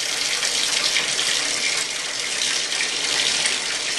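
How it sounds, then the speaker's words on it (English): A bathtub with Orbeez in it fills from the tap, giving a loud, steady, close rush of running water that holds unbroken throughout with no voices. "now I'm going to fill the whole bathtub with water"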